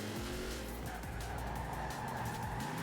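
In Forza Horizon 4 a car skids and drifts, its engine roaring loud and constant while tires squeal in repeated sliding bursts, with no voices.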